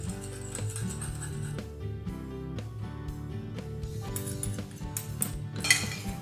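Potato, apple and celery salad being tossed with dressing, utensils clinking and scraping against a dish in a continuous busy clatter, close and fairly loud.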